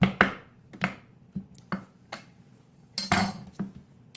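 A knife slices butternut squash into rounds on a cutting board, giving a series of distinct, close, sharp chopping knocks at an irregular pace.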